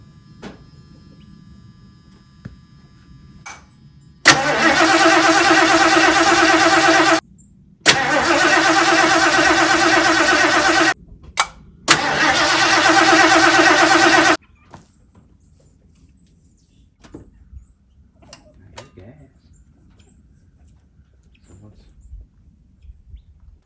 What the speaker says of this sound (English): It sounds like the carburetor's squirting.